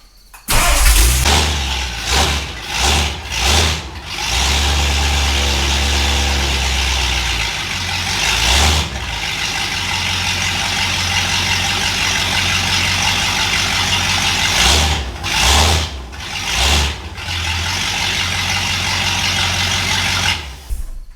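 Restored Ford Galaxie 500 V8 cranking and firing up nearby, several loud starter bursts and stumbling catches before settling into a steady idle, with more cranking attempts later.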